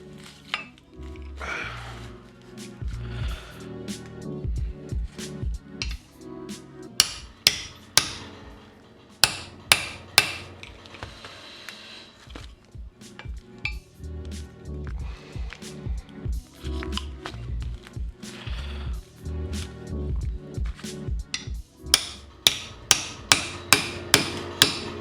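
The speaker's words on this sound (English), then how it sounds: "Give it a whack with a hammer." A hammer repeatedly whacks a socket to press a metal part into a brake caliper during a Toyota MR2 brake rebuild, sharp ringing metallic strikes in irregular bursts, close up, growing into rapid series of blows toward the end.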